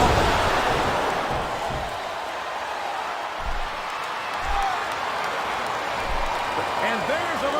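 A wrestling crowd cheers in the SmackDown vs Raw PS2 game, a broad steady roar of fans under loud commentary with occasional thumps.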